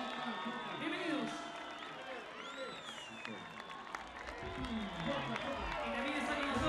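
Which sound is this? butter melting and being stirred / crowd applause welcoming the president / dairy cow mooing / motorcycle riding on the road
crowd applause welcoming the president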